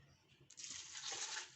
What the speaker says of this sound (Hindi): ये 2 गिलास जो है ना पानी डालेंगे